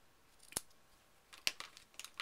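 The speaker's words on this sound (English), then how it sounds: "now we're going to cut it at an angle" Scissors cut ribbon at an angle while a handmade Easter card is decorated: a few sharp, close snips, quiet and isolated, with no talking.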